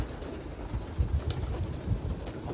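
Soft low pigeon cooing repeats against an outdoor background hum, with a few faint flutters nearby.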